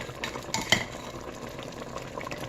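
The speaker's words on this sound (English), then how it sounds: "There's a lot of stirring." Chicken and dumplings being stirred in a pot, soft scraping and a few clinks of a spoon over a faint bubbling simmer, fairly quiet and close.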